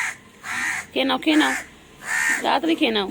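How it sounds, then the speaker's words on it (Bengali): Crows caw loudly and close in harsh, repeated calls, coming in two bursts across the moment, while someone speaks over them. "কাকগুলো কেমন ডাকছে দেখো"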